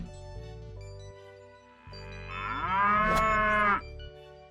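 A farm cow gives a single long, loud moo that swells and then cuts off, with a low background hum before and after and no talking.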